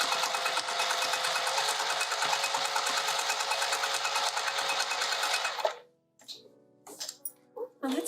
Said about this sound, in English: Let's go to the machine. Wonder if I could do a really big stitch.